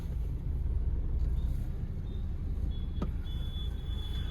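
A Hyundai Creta diesel engine idles smoothly and steadily, a low, even hum with no knocking, fairly quiet and heard alone apart from a brief high electric whine partway through.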